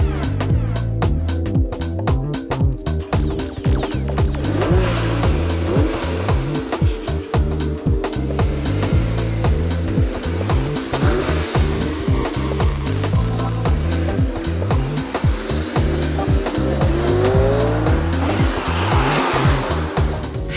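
Ferrari sports car driving at about 200 km/h, a loud, continuous engine roar with pulsing low rumble and tire noise that stays up close for the whole run.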